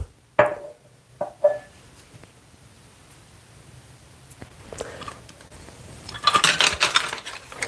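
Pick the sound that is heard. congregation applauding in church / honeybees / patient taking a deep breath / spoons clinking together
spoons clinking together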